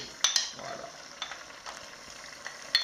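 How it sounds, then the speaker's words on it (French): Tomato basil coulis is stirred in a pot, a spoon clinking against the metal in a few sharp knocks over a soft, wet scraping and faint sizzle. "On mélange le tout."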